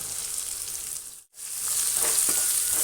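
Onion, ginger, garlic, cinnamon and cloves sizzle in a hot pan, a close bright frying hiss that briefly cuts out before resuming with light stirring scrapes.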